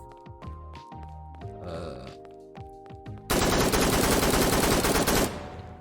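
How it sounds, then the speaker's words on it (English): Gunfire from shooting in an indie video game still in development, a dense loud burst of rapid shots arriving midway and holding for about two seconds over chiptune-like tonal game music. "So you can run out of ammo by shooting enough."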